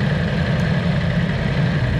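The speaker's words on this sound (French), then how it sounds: "vous entendez le moteur, ça fait un peu un bruit de V4" A 2020 Yamaha R1 inline four-cylinder motorcycle engine idles steadily nearby at the Jerez circuit, a constant low rumble with no change in revs.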